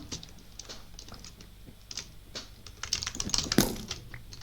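Quick keystrokes rattle on a computer keyboard while a Bed Wars match is played, a fairly quiet run of clicking that grows busier and louder toward the end.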